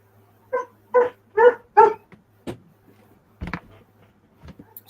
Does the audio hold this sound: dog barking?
yes